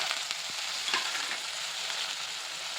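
Mixed vegetables with peanuts and sugarcane pieces sizzle steadily in a hot pan as they are stirred, a dense, even frying hiss with no talking.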